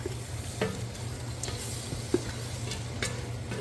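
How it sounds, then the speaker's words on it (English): Artichoke hearts are stirred into oyster soup in a pot: a continuous low simmering hiss with occasional faint spoon scrapes and a single brief knock, close and unaccompanied by voices. "we're going to stir that all in"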